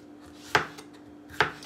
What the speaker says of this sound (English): Just going to cut them in like little bite-sized pieces.